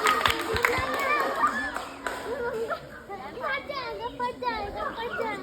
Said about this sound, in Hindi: ताली बजाओ सतीश के लिए।